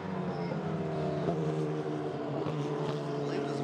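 Porsche Cayman GT4 race cars running side by side in a Thailand Supercar GTC race, a continuous loud engine drone with layered tones, close and unbroken.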